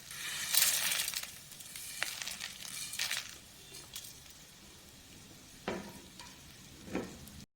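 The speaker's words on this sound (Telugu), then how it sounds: "ఇది లైట్ గోల్డ్ కలర్ వచ్చేంత వరకు మనం ఇలా కలుపుకోవాలి" Spices and a little oil sizzle softly in a kadai as a spoon stirs and scrapes them in a few short bursts, close and fairly quiet; no one speaks.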